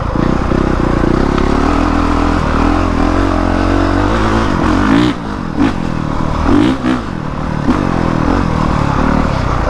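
A Honda CRF450R dirt bike rides off-road, its engine droning loudly and steadily with brief throttle blips and dips midway, plus some clatter and scraping from the terrain, with no voices.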